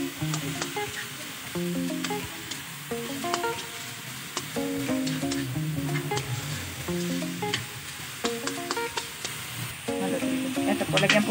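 Ginger sizzles in a hot pan while it is sautéed for binagoongang baboy with string beans. A steady frying hiss runs under intermittent stirring scrapes, with soft tonal background music.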